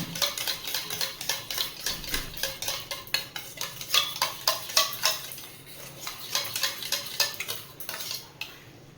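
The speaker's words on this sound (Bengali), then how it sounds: "আমি দইটাকে এরকমভাবে ফেটিয়ে নিচ্ছি দই ফুচকা বানানোর জন্য" Yogurt with salt is whisked for dahi fuchka, a steady run of quick clicking strokes of a utensil against a bowl, close and clear, slowing briefly midway before resuming.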